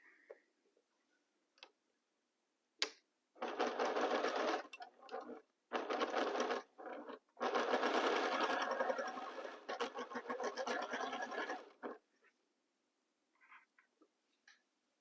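A sewing machine stitches rows of aligned fabric in close, loud bursts of varying length separated by short pauses, with faint ticking in the quiet gaps.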